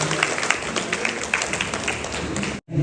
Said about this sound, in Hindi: शुक्रिया, जोरदार तालियों के साथ